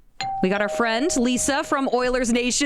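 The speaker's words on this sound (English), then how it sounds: "Was that a little doorbell?" A small doorbell chimes with a steady tone that sustains under a man's speech, which continues over it throughout.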